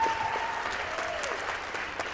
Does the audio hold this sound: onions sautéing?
no